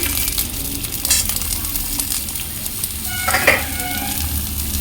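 Eggplant and papaya dropped into a hot pan and frying, a continuous close sizzle with a brief louder hiss and crackle burst partway through, no talk.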